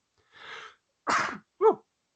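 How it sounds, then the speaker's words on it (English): A single sneeze heard up close in three parts: a breathy inhale, a sharp burst, then a short voiced tail, with silence around it. "I was gonna sneeze there."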